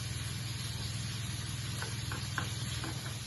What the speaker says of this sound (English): So my chicken is sizzling away in the background, as you can hear